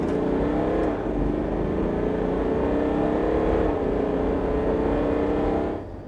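Steady drone of an Ineos Grenadier's BMW 3-litre diesel pulling up a hill in seventh gear at about 88, heard from inside the cabin as a constant loud engine and road hum that eases slightly at the end.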